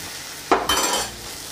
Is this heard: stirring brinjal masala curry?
yes